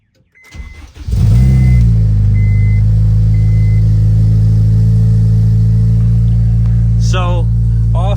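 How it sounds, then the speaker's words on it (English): An Acura RSX Type S fitted with aftermarket headers and no stock cat cranks and catches after about a second, then settles into a loud, steady, rumbling idle close to the recorder. "you guys are gonna notice that she sounds a little different when I start her up"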